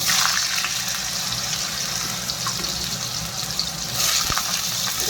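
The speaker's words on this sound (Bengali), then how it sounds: "কলাটা ভেজে নেব, এক করে সবগুলো ভেজে নেব।" Raw banana pieces fry in hot oil in a pan, producing a continuous dense sizzle with occasional stirring clinks and splashy bubbling, heard close and without speech.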